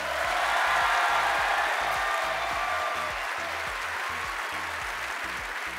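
Sustained applause from a large audience voting by clapping at an evening business-event competition, loud and steady throughout with a slight fade toward the end.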